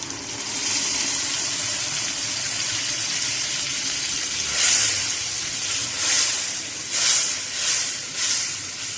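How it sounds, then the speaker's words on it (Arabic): Tomato puree poured over sautéing onions in a pan for an Egyptian home-style tomato sauce, a loud continuous sizzling hiss with several swelling bursts as more liquid hits the hot pan. "هننزل عليهم بلتر ونص من الطماطم"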